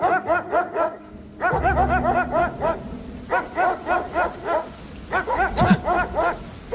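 Several large dogs bark loudly and rapidly in repeated bursts, close by, with short pauses between the volleys and no talking.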